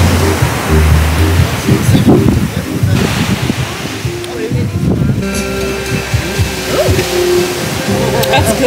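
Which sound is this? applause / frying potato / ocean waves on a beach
ocean waves on a beach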